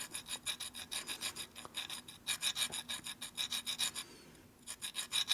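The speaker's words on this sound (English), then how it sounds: "just go back and forth as you're filing it" A hand file rasps back and forth across a valve from a 1984 Harley-Davidson Evo 80ci engine to remove carbon, making quick, close, rhythmic scraping strokes with a short pause before the strokes resume.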